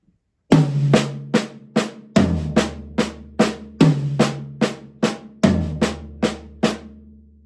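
A drum fill of sixteenth-note single strokes on high and low toms, loud and close, with roughly a dozen accented hits in an even pattern that drops in pitch from high tom to low tom.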